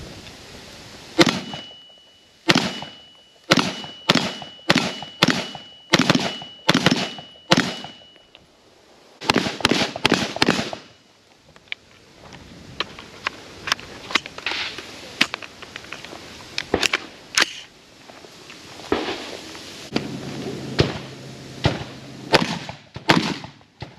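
Rifle gunfire at an outdoor shooting range: a rapid string of sharp, loud cracks in quick succession, a pause, then more scattered shots and volleys spread over the clip, with faint background noise between reports.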